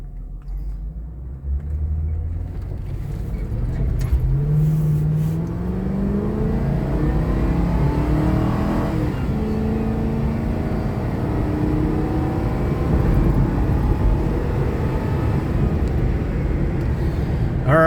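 A 2011 Ford Crown Victoria Police Interceptor engine revs and accelerates hard, its pitch climbing through gear changes in a steady, loud rumble for a long stretch.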